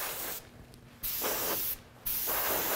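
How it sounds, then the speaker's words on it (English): An airbrush sprays AutoAir sealer in two bursts, each a sharp hiss that starts abruptly and stops abruptly, separated by short quiet pauses, close and alone. "This is already reduced down for a spray gun, but you see it's spraying just fine through the clips."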